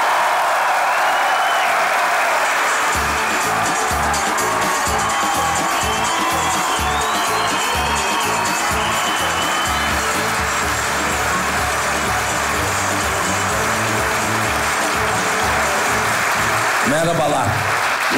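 Studio audience applauding the arrival of a veteran Turkish actor on a comedy show, a loud, sustained ovation with cheers, backed by a rhythmic musical beat, with voices over it.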